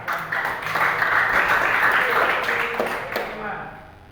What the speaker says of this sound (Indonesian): Oke, kasih aplaus ya.